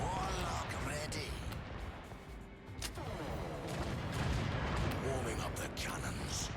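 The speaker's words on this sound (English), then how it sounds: "Warming up the cannons." Cannons and turrets firing in the Dragon Commander strategy game, a dense, continuous barrage of heavy booms and blasts with no let-up, loud throughout.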